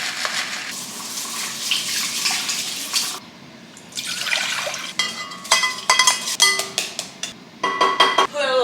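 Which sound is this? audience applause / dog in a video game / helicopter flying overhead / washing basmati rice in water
washing basmati rice in water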